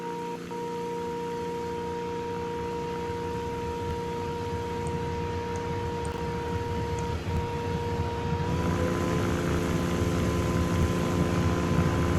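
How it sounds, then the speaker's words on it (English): A propeller aircraft engine in the GeoFS flight simulator game hums steadily with a sustained high tonal whine over a low engine drone, the pitch stepping up slightly partway through as power rises. "soon enough the whine is going to cease and you will just hear the sound of the engine operating at full power"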